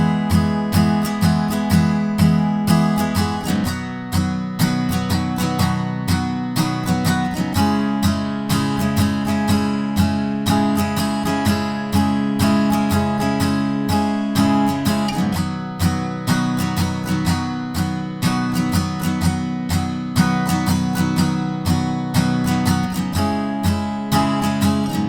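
Acoustic guitar strumming the bridge chords of a song, a steady rhythmic pattern of full chord strums running continuously for about twenty-five seconds, loud and close with no voice.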